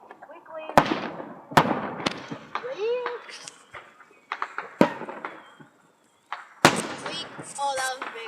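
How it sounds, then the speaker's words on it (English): Fireworks going off at a display, several sharp close bangs and crackling bursts spread irregularly, with people talking and exclaiming excitedly between and over the explosions. "I knew it was big because of the fireworks"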